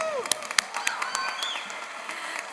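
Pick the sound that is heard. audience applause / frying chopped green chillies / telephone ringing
audience applause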